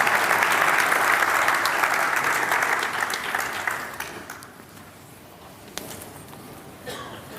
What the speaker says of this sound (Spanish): Muchas gracias a ambos por esta exposición, con un aplauso del público